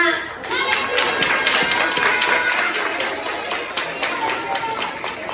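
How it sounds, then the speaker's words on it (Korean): Enthusiastic clapping from an audience at a church children's Christmas pageant runs continuously, dense and close, with a voice speaking over it. "여러분 더 큰 박수 부탁드립니다"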